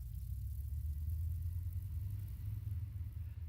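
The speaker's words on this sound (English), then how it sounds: "Again, that sounds like a car." A steady low engine rumble, like a car running nearby, continuous and even with no voices.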